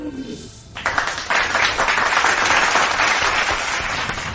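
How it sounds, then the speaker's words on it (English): A canned applause sound effect played on a livestream, a burst of crowd clapping that starts abruptly after a brief moment of talk and continues as a loud, dense, steady wash. "Big round of applause."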